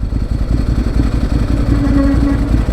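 A motorcycle with brakes that feel like they are dragging idles nearby with the clutch pulled in, a loud, steady low rumble with a faint thin whine partway through.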